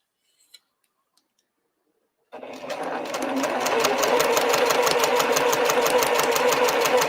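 After a quiet start with a couple of faint clicks, a sewing machine starts up and runs steadily and loudly at close range, its rapid needle rhythm stitching web-style quilting lines across a triangles and squares quilt.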